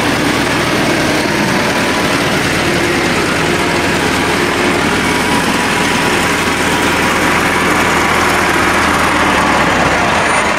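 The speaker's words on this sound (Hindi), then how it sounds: "ये ट्रैक्टर है, चलता जाएगा तो ये लगाती जाएगी।" A tractor engine runs steadily while pulling a potato planter through a field in Punjab, a continuous loud mechanical drone with low rumble and broad noise, no talk, for the full stretch.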